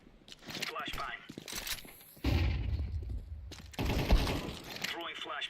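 A flashbang grenade is thrown in Counter-Strike 2 amid gameplay noise, with sharp broadband bursts landing loud and close and steadier noisy stretches between them.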